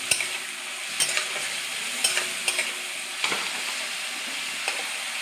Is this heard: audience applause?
no